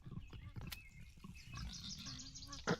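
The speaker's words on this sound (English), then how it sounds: "killing pigs with a pickaxe, not even a knife or a sword" A pig is killed with a pickaxe in the video game Mortal Online II, giving short grunting and squealing animal cries mixed with impact noises, fairly faint under a busy game background.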